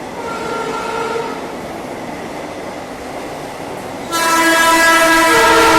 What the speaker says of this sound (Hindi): New Delhi Varanasi Vande Bharat express.